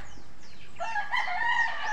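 Chickens and roosters at a game farm, with a rooster crowing clearly in the second half over a quiet yard and soft clucking from the flock nearby.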